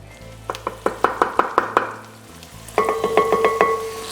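Garlic cooking in a pan for baked potato soup: a run of sharp, regular stirring scrapes with a soft sizzle beneath, a brief pause, then another quicker burst of stirring, close and clear, with no talk.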